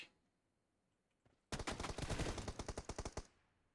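Rapid automatic rifle fire in PUBG Mobile, a loud close burst of around a dozen quick evenly spaced shots lasting under two seconds, preceded by near silence.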